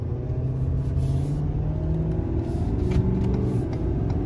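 A 2019 Ford F-450 Limited pickup truck accelerates on the road while towing a heavy load of about 35,000 lb. Its deep engine rumble stays steady and loud throughout, with no talking.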